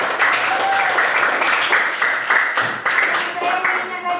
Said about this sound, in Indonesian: kita kasih aplaus buat Bella.